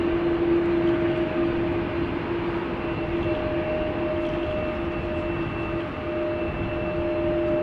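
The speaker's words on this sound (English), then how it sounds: "Keen observers will notice that we're hearing engines of an A330." A Delta Airbus A330 passes by at rainy Amsterdam Schiphol Airport, its jet engines a steady, loud, broad roar with a sustained whine running through it for the whole stretch.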